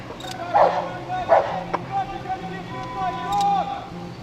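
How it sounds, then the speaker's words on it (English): A police dog barks twice in short, loud bursts, then whines and yelps, with engine hum and talk in the background. "the police dog will be released"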